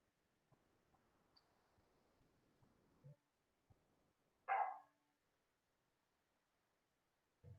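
A single short dog bark, somewhat distant, cuts through an otherwise quiet room with only faint thumps before and after.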